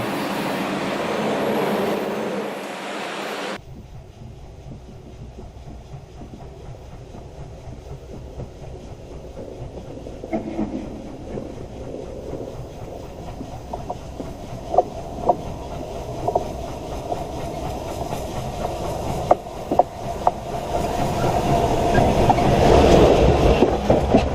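A steam locomotive, the 611, rumbles past in Blackstone, Virginia with a steady roar, strong exhaust stack talk and rhythmic clicking of wheels, growing louder toward the end.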